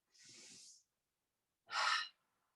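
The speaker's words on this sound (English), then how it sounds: "Inhale." Two deep breaths taken in a chair pilates breathing exercise, a softer one followed by a louder, fuller one after a pause, close and clear with no talking.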